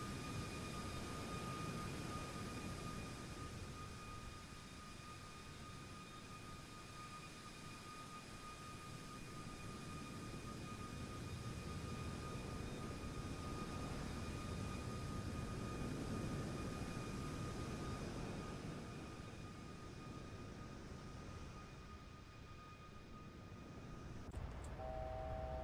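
Simulated Boeing 737 MAX 8 jet engines in cruise flight in the iFly flight simulator game, a steady low rumbling drone with faint tonal whines, fairly quiet and continuous, ending with a short electronic chime.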